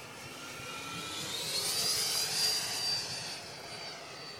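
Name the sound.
Viper Jet RC model with 120mm EDF flying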